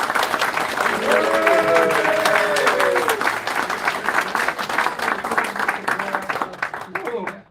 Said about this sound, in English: So please, ladies and gentlemen, can we have a rousing round of applause for Ivan and Jeff?